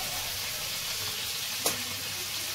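Chicken pieces frying in hot oil keep up a steady, close sizzle, with one sharp spatter popping out partway through.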